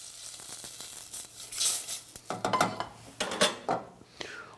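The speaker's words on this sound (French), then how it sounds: "Et je déglace, je mouille à hauteur avec de l'eau." Water poured into a hot pan to deglaze while cooking a squid and Palamos prawn jus, with bursts of sizzling hiss and clinks of metal utensils against the pan, close and uneven.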